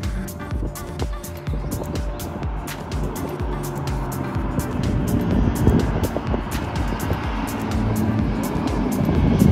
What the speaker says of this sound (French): On voit les voitures qui sont en train d'attendre, à mon avis, pour démarrer une petite course.